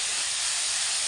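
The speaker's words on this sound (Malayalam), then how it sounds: "തക്കാളിക്കൊക്കെ ഒന്ന് വഴറ്റി എടുക്കാം" Tomatoes, onions and green chilies sauté in a pan, giving a steady, loud, close hiss of steam and frying that runs unbroken for about a second.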